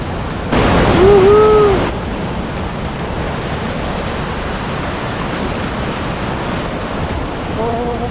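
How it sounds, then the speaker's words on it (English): The Yoho River roars full of midsummer water in a steady, broad rushing wash. A brief whistle-like tone rises over it early and again near the end. "headed north along the Yoho River, which even in midsummer is roaring full of water"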